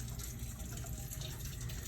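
Water pours steadily into an alginate mix, a continuous close gushing splash with no breaks and no one speaking over it.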